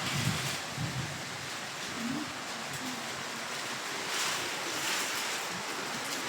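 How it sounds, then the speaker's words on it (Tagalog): Strong storm wind with heavy rain during a typhoon, a loud, constant broadband roar that swells and eases slightly throughout, with no pauses. "Lakas ng hangin."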